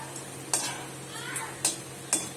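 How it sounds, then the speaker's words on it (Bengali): Whole spices such as bay leaves, cinnamon, cloves, cardamom and peppercorns fry with dried red chillies in oil, a soft sizzle under three crisp spatula clinks against the pan. "এই এই যে শুকনো লঙ্কা ভাজতে দিয়েছি।"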